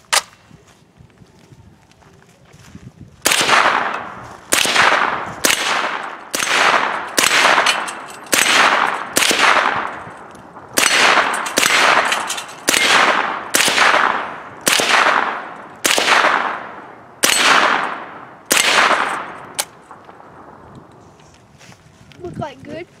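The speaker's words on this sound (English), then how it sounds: "now we're gonna try it out with the Guardian 9 suppressor" A suppressed .22 rifle fitted with a Guardian 9 suppressor fires about fifteen shots in a steady cadence outdoors, each a sharp crack with a short echoing tail.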